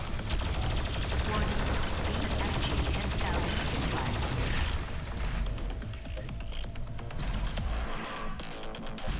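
The BFG 10,000 fires in DOOM Eternal: a dense, loud, continuous barrage of booming blasts and clattering mechanical noise fills the whole stretch, thinning slightly toward the end.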